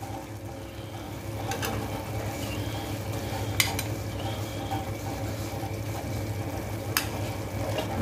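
Potato and fenugreek roasting in a pan for aloo methi: a continuous low sizzle with a few sharp clicks of stirring against the pan.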